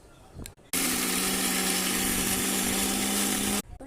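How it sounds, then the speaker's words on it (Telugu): A mixer grinder whirs loudly and steadily for about three seconds while grinding small onions, cumin, dried chillies and salt for a gongura chutney, starting and stopping abruptly. "చిన్నుల్లిపాయలు జీలకర్ర కాసిన ఎండుమిరపకాయలు వేసుకొని కొంచెం ఉప్పు వేసుకొని మిక్సీ పట్టుకోవాలి."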